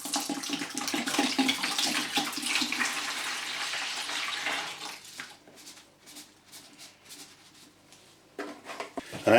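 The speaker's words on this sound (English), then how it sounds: "I'm going to open it and I'm going to pour it into a bucket" Tanking primer glugging and splashing steadily from its container into a bucket while a shower area is being tanked, loud for several seconds before tapering to a thinner trickle and scattered drips.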